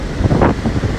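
Strong wind buffeting the microphone with stormy sea surf on the Sochi seafront, a loud rushing roar with gusty swells, no voice present.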